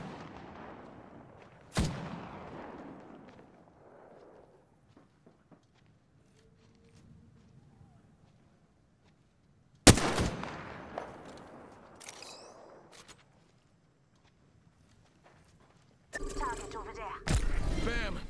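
Gunfire in Apex Legends: a few loud, sharp blasts spread far apart, each with a booming tail, then a dense rattling burst near the end with quiet stretches between.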